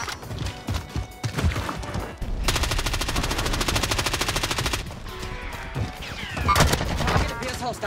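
Automatic gunfire in the video game Call of Duty: Warzone, a sustained rapid burst of machine gun fire in the middle, with scattered shots and game sounds around it and brief voices nearby.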